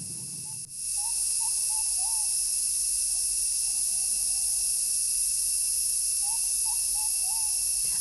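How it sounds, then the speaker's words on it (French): Short chirping bird calls in a tropical forest repeat in bursts over a steady loud hiss of insects or forest ambience, with a brief thump near the start. "Des oiseaux, une forêt tropicale."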